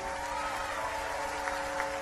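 Applause from a church congregation at a sermon, a steady, even wash of clapping over a low hum for a couple of seconds.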